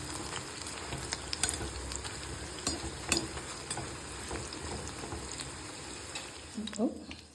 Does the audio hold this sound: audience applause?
no